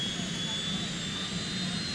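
A ship's helicopter flies an aerial tour over an island, its engine and rotor making a loud, steady, continuous roar with a constant whine and no breaks.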